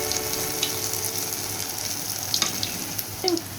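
Spicy curd vadas fry in hot oil with a steady, close sizzle and bubbling, and a few faint scrapes and clinks as they are turned over. No one speaks.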